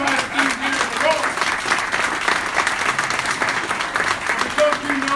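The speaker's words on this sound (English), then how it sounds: "Another big round of applause for Mayor Richard C." Sustained applause from a crowd honoring Mayor Richard C. Irvin of Aurora, steady dense clapping throughout with cheering voices mixed in.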